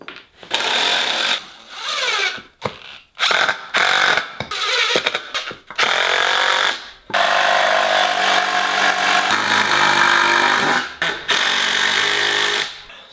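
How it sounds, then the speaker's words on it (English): A power drill drives long wood screws into wooden pieces of a homemade garage-gym reverse hyper machine, whirring in a series of short bursts followed by one longer, sustained run, close and loud with no talk. "So I'll just grab a couple of long wood screws here."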